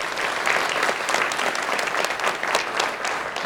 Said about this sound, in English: Let's give them a round of applause and say thank you